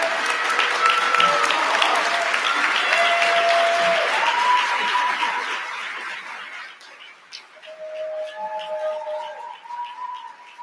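An audience applauds loudly after a speech at an advertising awards event, steady for several seconds, then fades, with a few tonal whistles or cheers over the clapping and some murmured voices as it dies down.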